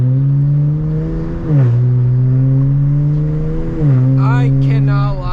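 A BMW 335i's engine drones loudly up close through a deep aftermarket exhaust, its pitch climbing and dropping twice as it revs through gears.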